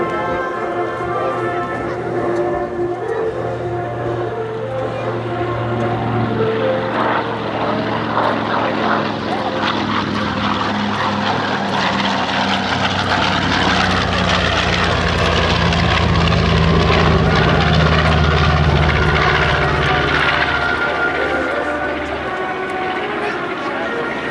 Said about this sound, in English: As he brings the B-25 around and rolls it in over the runway